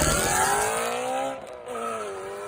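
A BMW E92 M3 engine with a loud aftermarket full titanium exhaust revs and drones steadily, pitch sliding down then climbing again after a brief dip, close by with no talking.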